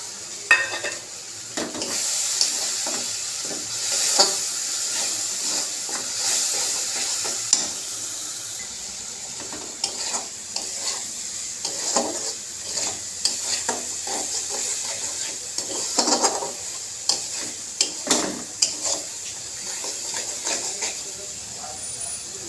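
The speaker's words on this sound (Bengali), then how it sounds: "এবার দেখো লঙ্কা, নুন, হলুদটা দিয়ে একটু কষাবো" Chili, salt and turmeric frying and being stirred in a pan give a steady close sizzle with repeated scraping stirs throughout, and a faint voice appears at times.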